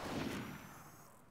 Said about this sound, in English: They're shooting it.